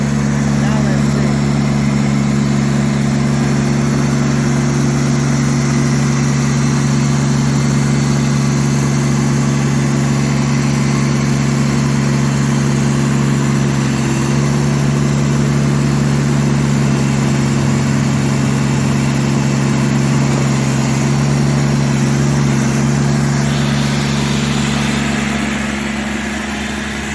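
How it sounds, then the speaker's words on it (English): A John Deere 450C crawler track loader engine idles steadily at close range, a low, even diesel drone with constant vibration that runs unbroken for the whole stretch. "The engine sounds pretty good."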